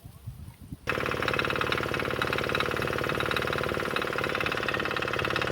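A farm vehicle engine ploughing a sesame field starts up after a second of quieter rustling, then runs loud and steady with a rough, knocking, rapid low thrum close by.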